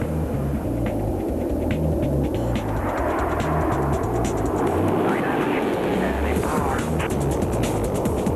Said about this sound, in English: Section High Alpha is your basic 15 tons of jet levitation trick.